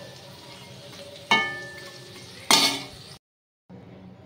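Khola frying in a small amount of oil in a home kitchen, a quiet steady sizzle punctuated by two sharp bursts of spattering or utensil clatter, followed by a brief silence.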